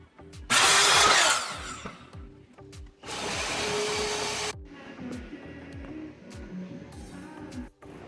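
A power tool cuts through an end table board for a mining rig frame in two loud, harsh bursts separated by a short pause, followed by quieter shop noise.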